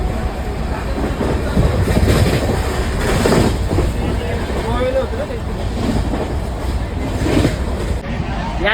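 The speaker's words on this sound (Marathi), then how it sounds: "याचबरोबर आमची ट्रेन निघाली आहे" A passenger train pulls away on a journey from Pune to Tirupati, its steady rumble and rhythmic clickety-clack of wheels on rail joints filling the carriage, with people talking faintly in the background.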